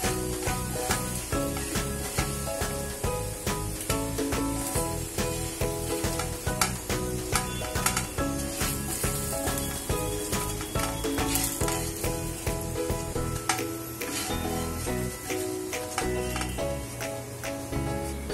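Slices of elephant foot yam (suran) frying in hot oil give a steady, loud sizzle with crackling spatter and occasional stirring, continuous throughout with no talking.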